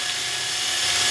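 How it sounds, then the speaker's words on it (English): A drill with a 3mm bit boring old cable out of a vintage VLC Valve Master valve facing machine during restoration, a steady close whirring grind held without a break for the whole moment, no talk over it. "So we're just going to drill this through a little."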